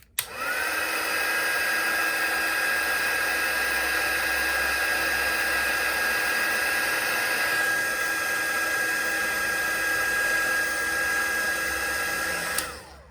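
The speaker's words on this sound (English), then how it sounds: "So I'm just gonna take my heat tool really quickly." A handheld heat tool drying wet watercolour paint on paper: a loud, steady whirring blast with a thin high whine, switched on at the start and running unbroken for about twelve seconds before cutting off, with no talking.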